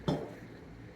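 A single metal clank of a spoon against a pan while ghee is stirred into Mysorepak batter, followed by soft scraping as the mixture settles.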